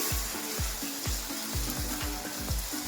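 Mango malpua frying in a pan, a steady close sizzle of batter in oil with repeated rhythmic low thumps, about two per second.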